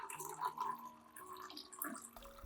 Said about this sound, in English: Next, I will add about 500 milliliters of boiling water.